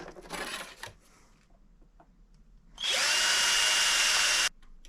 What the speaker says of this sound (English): Center punched and drilled the mounting holes.